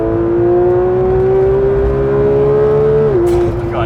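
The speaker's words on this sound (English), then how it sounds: "And Yuri, let's let this engine sing because now I'm actually gonna have some traction" A 2022 Porsche 911 GT3 engine revs loudly on a wet road, a sustained high rising tone from inside the car that holds, then drops sharply as the throttle lifts.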